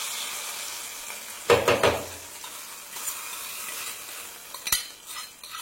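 Hot onion tempering is poured into green brinjal theeyal, a spicy Nagercoil-style gravy, with a brief sharp sizzle followed by spoon clinks and stirring scrapes against the pot, close up and without talk.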